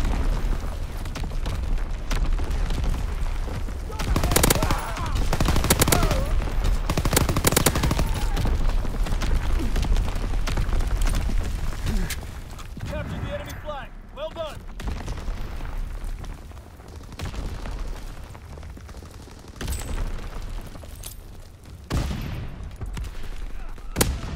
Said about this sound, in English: Incoming enemy artillery, get to cover